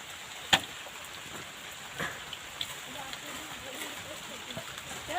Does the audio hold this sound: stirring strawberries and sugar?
no